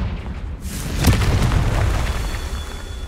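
Confringo fire spell in Hogwarts Legacy erupts as a deep, loud boom with a rolling rumble and crackling tail, a single close blast filling the short moment.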